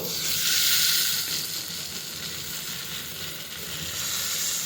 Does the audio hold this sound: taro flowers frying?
yes